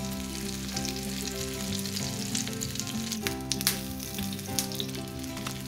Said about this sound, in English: goat cheese patties to the oil. Hear that sizzle? Always want that sizzle.